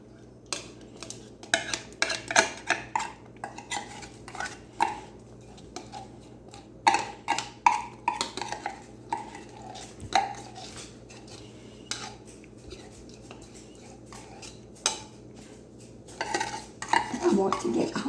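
Metal spoon scraping the inside of a 14-ounce can of sweetened condensed milk in a home kitchen: irregular clinks and scrapes in clusters, close and moderately quiet, against a low steady hum.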